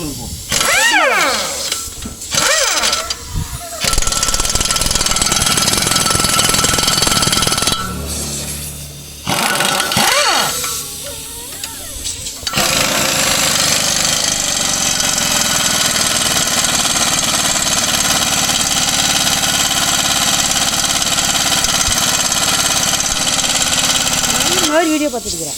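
An air impact wrench rattles loudly in repeated bursts while tightening new blades on a Gomathi rotavator fitted to a Mahindra Arjun Novo 605 tractor, followed by a long continuous mechanical drone.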